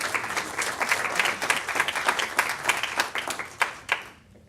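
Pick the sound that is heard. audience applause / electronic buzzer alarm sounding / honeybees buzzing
audience applause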